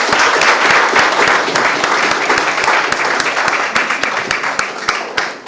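Sustained audience applause after a panel discussion, loud and dense at first with sharp individual claps standing out, thinning gradually over several seconds.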